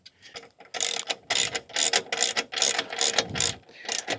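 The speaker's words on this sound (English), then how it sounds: "Now, guys, you're going to tighten these bolts up, but don't forget this stuff is made out of aluminum." A half-inch ratchet tightening bolts on an aluminum two-bike e-bike hitch rack, producing bursts of rapid, close clicking strokes in a repeating rhythm, with short pauses between pulls.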